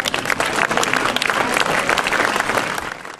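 Loud, sustained applause from a large audience, continuous clapping that tapers off slightly toward the end.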